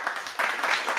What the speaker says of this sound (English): I got some clapping for you